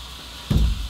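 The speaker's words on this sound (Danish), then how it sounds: "Så hælder man varmt vand på." Hot water poured into a mug holding Calcium Magnesium Plus powder: a sudden splashing pour starts halfway through and keeps going, close and fairly loud.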